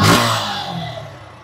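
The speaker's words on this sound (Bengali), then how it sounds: "যেমন এটা 2025-এর গাড়ি, এটার ইঞ্জিন সাউন্ড মাশাআল্লাহ" A 2025 motorcycle engine revs in a sharp, loud close burst, then falls away into a fading mechanical drone.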